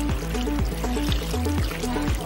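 Water is poured into a solar-powered garden fountain in a steady, continuous gush with a bubbling, gurgling texture, loud and close, lasting the whole moment without speech.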